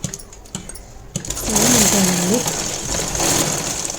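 A sewing machine stitches a plain blouse, its steady motor hum rising after a few soft clicks and running on beneath a person talking.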